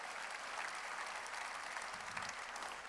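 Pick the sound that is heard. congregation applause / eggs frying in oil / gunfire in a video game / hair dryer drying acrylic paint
congregation applause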